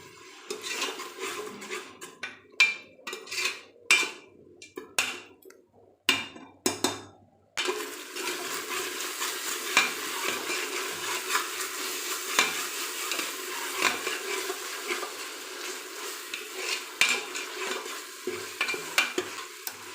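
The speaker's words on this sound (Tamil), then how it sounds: "இதை நம்ம நல்லா வதக்கிக்கலாம் அந்த எண்ணெயில் இந்த இஞ்சி பூண்டு பேஸ்ட்டோட ஸ்மெல் வந்து போகிற அளவுக்கு" Ginger garlic paste sautéed in oil for a chicken biryani made in a pressure cooker: a few seconds of scattered stirring clinks and scrapes, then a steady, close sizzle with continuous spoon stirring against the pan.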